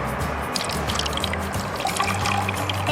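Water poured from a container into a small sea monkey tank at home, a steady close trickling and splashing stream that runs alone for a few seconds.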